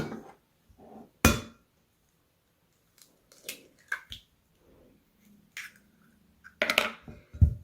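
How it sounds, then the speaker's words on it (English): A single egg is cracked sharply against a bowl and dropped into blueberry muffin batter. Scattered nearby clicks and taps of kitchen handling sit around a quiet room. "now I'm going to add my 1 egg to this mixture"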